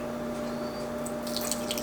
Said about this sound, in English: just simple filtered water, and I'm gonna pour it very slowly